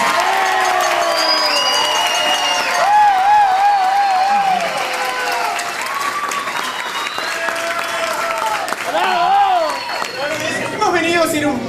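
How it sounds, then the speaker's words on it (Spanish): Audience applause and ovation at a live comedy and improv show, loud sustained clapping from a crowd, with voices and shouts mixed in throughout. "nos van a aplaudir en una ovación"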